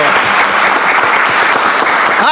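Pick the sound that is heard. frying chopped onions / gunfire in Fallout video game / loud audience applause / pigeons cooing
loud audience applause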